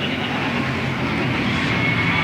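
Stock cars racing at Louisville Motor Speedway in a 1991 Sportsman event, a loud, continuous roar of engines droning steadily throughout.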